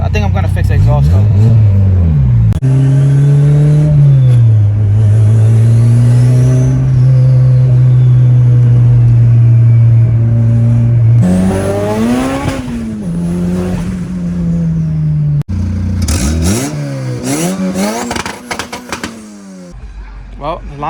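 A turbocharged Honda Civic with a damaged exhaust revs and accelerates hard, its loud engine note climbing and falling through several pulls close by, with brief spoken remarks between runs.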